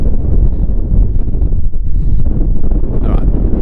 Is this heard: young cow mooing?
no